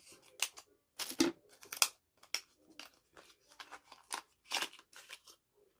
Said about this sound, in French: Je vais prendre les ciseaux